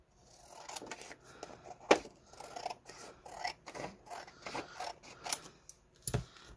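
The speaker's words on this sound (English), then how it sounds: "I flip it over, and I cut off this excess" Scissors snip through excess material while trimming a fabric bookmark pocket, giving a run of close, crisp cuts with one sharp loud snip early and another near the end.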